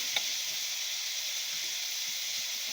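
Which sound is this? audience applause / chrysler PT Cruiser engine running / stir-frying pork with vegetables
stir-frying pork with vegetables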